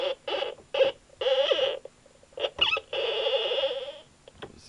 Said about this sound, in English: This is the Thingamagoop, which is basically just random.